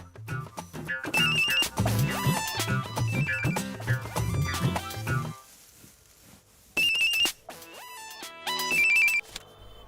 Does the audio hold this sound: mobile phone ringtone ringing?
yes